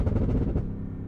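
A Cadillac Escalade V exhaust crackles and pops on overrun, a rapid burst of low, rumbling bangs close up that fades out within about a second.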